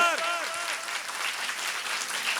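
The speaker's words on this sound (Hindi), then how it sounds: "ये जोरदार तालियां इनके लिए हो जाए एक बार" Audience applause at a regional group-singing competition, dense steady clapping from a crowd heard throughout, with a brief voice at the start.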